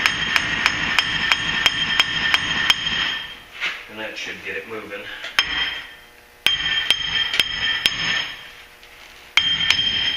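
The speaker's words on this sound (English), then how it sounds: "I just use a little hammer like this." Small hammer tapping a worn-out hub bearing out of the steering knuckle on a Ford Super Duty, driver side: sharp metallic strikes in a steady rapid series, pausing while someone speaks, then resuming in bursts.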